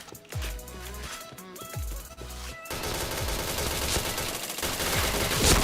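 Gunfire in the first-person shooter game Point Blank: rapid bursts of sharp gunshots at first, then a dense continuous stretch of overlapping automatic fire and impacts that grows louder toward the end.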